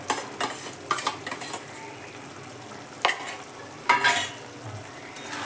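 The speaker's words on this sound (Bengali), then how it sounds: "ধনেপাতার ডাঁটা আর আদাটা দিয়ে এবার ভালো করে আবারও নেড়ে নেবো আমি" Grated ginger and coriander stems are stirred into a frying pan of chicken liver and gizzard masala, with a low sizzle under repeated metal spatula scrapes and clinks against the pan, heard close.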